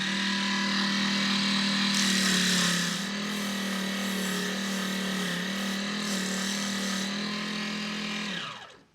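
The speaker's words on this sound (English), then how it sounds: "If we sand the edge of the wheel, that's fine." A spinning power tool sands the glue-marked edge of a model car wheel, a steady high whine with a harsher grinding stretch early on, holding level before winding down abruptly at the end.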